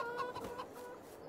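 Chickens cluck softly in the Farming Simulator 22 farming game, a few short quiet clucks heard alone without talk.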